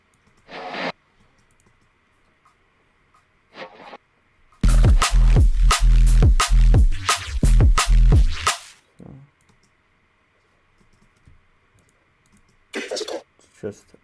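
A synth patch built from a sampled recording of a friend making a strange mouth sound plays as a dense, loud burst of rapid rhythmic stabs lasting a few seconds. Shorter, quieter fragments of it come before and after, with stretches of near-silence between them.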